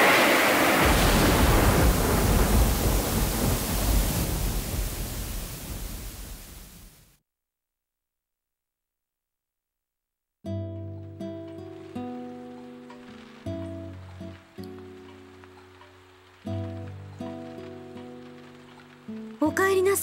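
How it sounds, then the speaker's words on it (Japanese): Heavy rain pours down in the PS2 visual novel Akai Ito, a dense steady hiss that fades out into silence, followed by a soft tonal game melody. "おかみさん、すごい雨ですね。"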